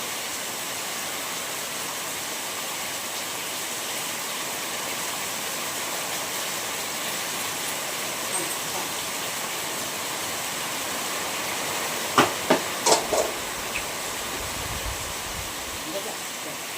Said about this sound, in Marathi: जाऊ नका बाहेर, पाऊस पडतो भरतो.